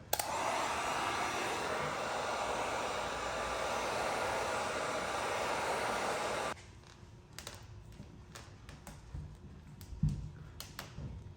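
A heat gun blows hot air onto a Ford F-150 badge to warm its adhesive, giving a steady, close rushing whir for about six seconds before it cuts off, followed by quieter handling taps and clicks.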